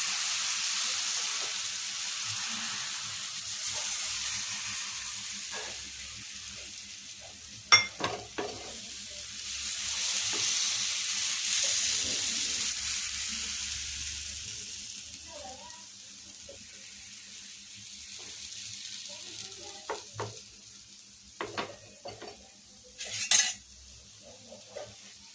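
Besan gram flour chila batter, with bottle gourd, sizzles softly in a pan as a steady low frying hiss, with a few sharp clinks of a utensil against the pan and quiet stirring scrapes; a voice is faintly present in the background.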